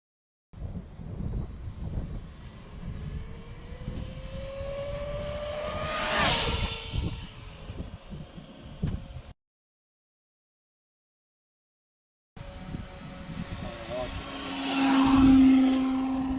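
An Arrma Infraction V2GT RC car screams past at full throttle, a high whine rising and sweeping with a Doppler shift through wind noise, then cuts out before a second distant pass, with a voice speaking nearby.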